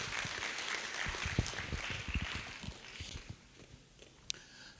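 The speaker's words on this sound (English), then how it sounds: "Minister Senge, a round of applause for him," Audience at a foundation learning exchange applauds for a minister, a dense patter of clapping that gradually thins and fades over a few seconds, ending with a few scattered claps.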